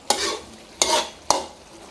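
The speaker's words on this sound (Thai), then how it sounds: "ผ่านไป7นาทีให้เราเปิดฝาแล้วก็คนได้เลยครับ" Chicken wings cooking in a pan are stirred three times, each scrape bringing a loud burst of sizzling that fades between strokes, with no talking.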